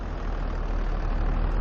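A tractor engine idles steadily in Farming Simulator 22 after heavy ploughing work, giving a constant, loud, low mechanical drone with no other sounds.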